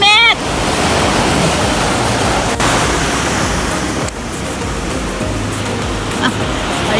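Large waves crash at the beach at San Juan, La Union, a loud, continuous surf wash with no break. Voices come through faintly under the roar.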